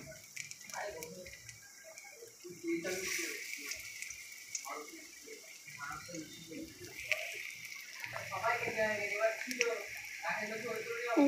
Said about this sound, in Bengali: তেলটা গরম হয়ে গেছে। এবার গ্যান্দল পাতার বড়াগুলো ছেড়ে দিচ্ছি।